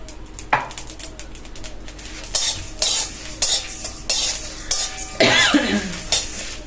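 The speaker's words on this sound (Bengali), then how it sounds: "এই মশলাটা একটু ভালো করে ভেজে নিতে হবে" Spices for mango pickle dry-roasting in a pan, with repeated scraping and stirring strokes of a metal spoon and occasional louder clanks against the pan, close and steady, with no talk.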